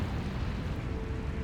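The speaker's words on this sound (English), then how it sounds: "ByuN's nuke will break through the batteries and get most of the cannons, I think." A nuclear strike detonates in a StarCraft 2 match, a steady, dense low rumble that holds loud and even throughout without a sharp onset.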